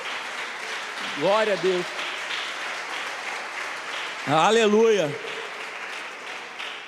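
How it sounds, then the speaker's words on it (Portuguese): Church congregation applauds during a sermon, a continuous wash of clapping from a large room that runs under short shouted words of praise from a voice. "Você pode aplaudir o Senhor por esse evangelho?"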